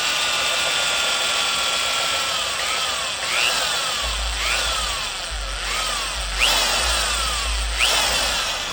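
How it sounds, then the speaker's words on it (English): A power drill whirs steadily and close, its pitch rising and falling in repeated bursts as it bites into a Harley-Davidson Big Twin main shaft seal until breaking through. "I'll drill"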